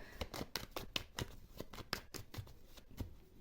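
Tarot cards shuffled by hand in a steady run of quick riffling flicks, close and fairly soft, with no voices over it.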